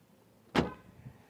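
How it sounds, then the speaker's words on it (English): A Geely Emgrand trunk opening hands-free: one short, moderately loud mechanical thunk from the tailgate latch releasing, followed by a faint, brief rumble of motion, then quiet. "how you can open this trunk hands-free"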